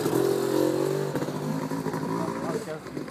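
A motorcycle engine drones and revs while towing a rider at a freestyle motocross show, heard under an excited announcer's commentary throughout.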